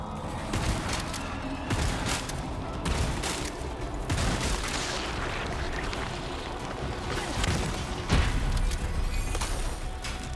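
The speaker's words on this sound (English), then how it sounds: "Was that a rocket?" A rocket explosion in the Resident Evil 4 Remake, heard as a loud, dense burst of booms and crashing debris in a sustained chaotic game battle, with a sharp heavy blast near the end.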